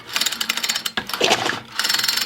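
Gears and pushrod mechanism of a Troy-Bilt tiller turning by hand with the cover off, a close run of quick metallic clicks and rattles, briefly broken by a louder clunk midway.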